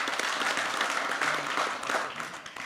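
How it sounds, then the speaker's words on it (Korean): Warm applause from an audience at a talk concert honoring Vietnam War veterans and their bereaved families, a dense steady wash of many hands clapping that holds loud throughout. "여러분 뜨겁게 박수 보내주셔서 고맙습니다"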